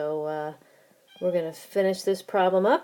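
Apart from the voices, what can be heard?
pet cat meowing in the background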